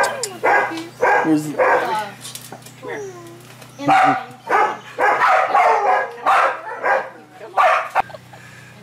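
Several puppies bark and yip in quick bursts nearby, with a voice speaking briefly among them.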